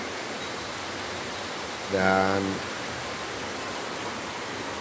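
Clear river water flowing gently near a small waterfall beside a riverside temple bathing spring, a steady broadband rush throughout with a brief spoken word partway through.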